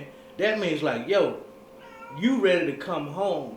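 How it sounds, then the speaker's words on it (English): A pet cat meows in loud, drawn-out cries close by indoors, overlapping with someone talking. "That's my cat"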